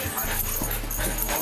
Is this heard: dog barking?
yes